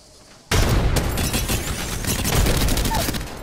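Frag grenade blasts in the battle royale shooter Apex Legends: a sudden loud explosion followed by a continuous roar of gunfire and booming detonations, close and dense throughout.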